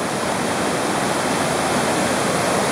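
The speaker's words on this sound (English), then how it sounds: "PopesHead Creek has overflowed its banks" Floodwater from the overflowing Popes Head Creek rushes near the bridge in Clifton, a loud, steady, unbroken roar like a waterfall that fills the whole stretch without any voices.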